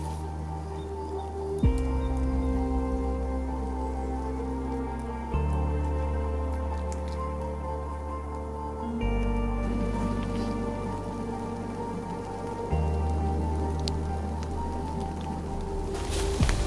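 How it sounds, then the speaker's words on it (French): Rain begins falling on a shelter at a bushcraft camp, a steady close patter of drops and drips that continues throughout with a few soft shifts in texture and no voices. "au moment où je termine l'abri, il commence à pleuvoir"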